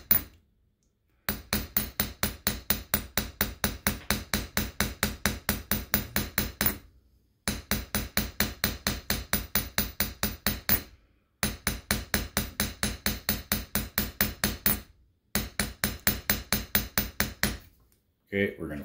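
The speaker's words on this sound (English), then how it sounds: "Try to keep your hammering consistent." A hammer taps lightly and steadily on a coin rotated against a mandrel to form a ring, rapid even metallic clicks in four long bursts separated by short pauses, close and clear.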